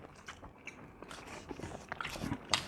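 Crunchy long beans bitten and chewed at a meal, giving irregular crisp crunches of moderate loudness that grow sharper toward the end, with no talk.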